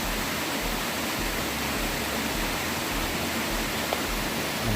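A waterfall at the Punyagiri Shiva shrine roars as a steady, even rush of falling water, continuous and fairly close, with no break or voices over it.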